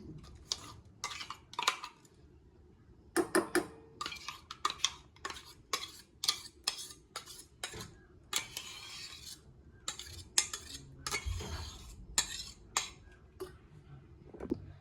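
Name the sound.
scraping batter from mixer jar into bowl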